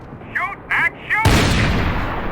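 Gunfire in Max Payne 3 breaks out as a loud, close burst of shots that rolls into a dense, sustained roar, following a few short spoken phrases.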